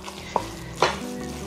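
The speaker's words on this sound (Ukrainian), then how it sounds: "Вимішую." Plant-based sunflower protein mince being mixed with spices for patties, giving two brief, close, soft stirring sounds against a quiet background with no voices.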